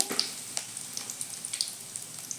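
Cumin seeds and curry leaves frying in hot oil for a home-cooked potato curry, giving a soft steady sizzle with small crackling pops throughout, fairly quiet and close, with no talk.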